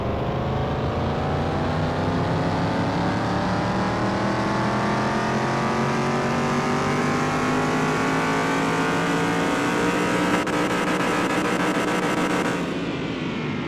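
Car engine in Car Mechanic Simulator 2021 revving steadily at high load, a sustained loud drone with slowly rising pitch as it pulls, cutting off near the end.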